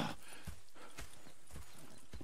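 Horse hooves clip-clop in a steady, even rhythm on a hard surface, fairly close, with no voices over them, in the video game Red Dead Redemption 2.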